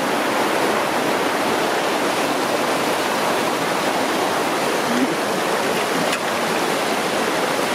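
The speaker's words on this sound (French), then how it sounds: "on a rejoint le ruisseau" A mountain stream in the Gorges d'Héric rushes with a constant, close, full-bodied roar of flowing water over rocks, unbroken throughout.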